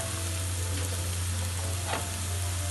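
Crushed garlic, ginger and green chili hit hot masala for a Kerala-style karimeen fish curry, giving a loud, constant sizzling hiss close up, with a low steady hum beneath and a brief scrape of stirring.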